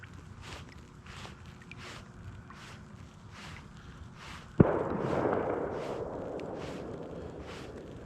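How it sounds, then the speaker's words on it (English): A single distant gunshot from a gun range, heard outdoors on a calm morning while fishing, a sharp crack followed by a long fading rumble over steady background ambience. "somebody's out at the gun range already"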